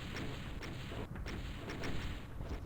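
Cyberdemon rockets explode among arch-viles in Doom II's Map09 World Centrifuge, a dense wash of rumbling blasts and game noise with a few sharper bursts standing out.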